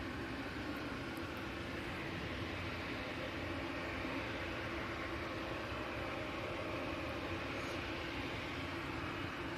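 A Virgin Atlantic airliner taxiing along a taxiway, heard as a steady, broad engine roar and hiss that holds level throughout, distant and continuous with no voices.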